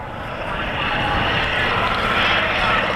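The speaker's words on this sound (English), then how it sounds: "A very low speed run," At an air show at Matamata Airfield, a large airplane able to carry eight or nine people makes a low-speed pass. Its loud, steady engine drone builds slightly as it goes by, with a voice talking faintly underneath.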